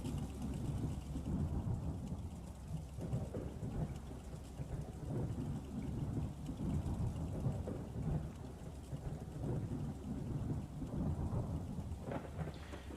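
Thunder rumbles through steady, heavy rain in a thunderstorm in the game Tornado: Research and Rescue, with a dense continuous downpour and low rolling booms throughout and no voices.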